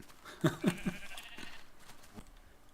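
Sheep bleating in Minecraft, two or three short nasal baas close together near the start, followed by faint footsteps and ambient game sounds.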